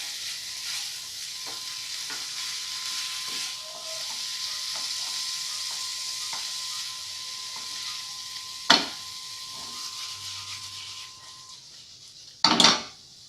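A steak pizzaiola sauce stirred in a pan after dried oregano goes in, a soft ongoing simmer with light scattered spoon taps and two sharper clanks of utensil against the pot.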